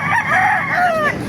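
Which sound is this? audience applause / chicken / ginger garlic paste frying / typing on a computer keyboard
chicken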